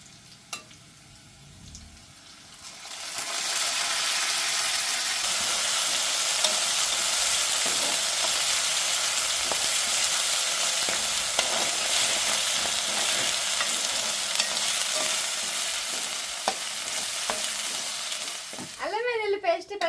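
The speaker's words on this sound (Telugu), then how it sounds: "ఇదిగా తయారు చేసి పెట్టుకున్న అల్లం వెల్లుల్లి పేస్ట్ చేస్తున్నా" Ginger-garlic paste and onions frying in hot oil in a village home kitchen, a dense steady sizzle rising after a quiet start and holding loud and close, with stirring scrapes, then a short burst of voice near the end.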